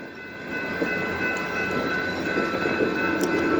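Train cars rolling through a railroad crossing, Great Northern freight car among them, with steady rumbling wheel noise and a faint crossing signal tone held throughout, fairly close and continuous.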